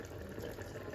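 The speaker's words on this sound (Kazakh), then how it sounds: "капустаның үстіне су құйдық" Water pours steadily over cabbage in a cooking pot for a brief moment, a soft, continuous splashing flow with no talking.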